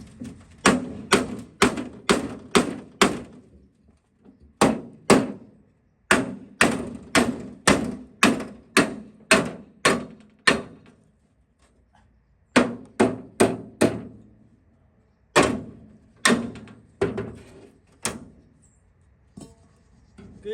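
A hammer strikes repeatedly in quick bursts of sharp, loud blows, pausing briefly between runs of hits.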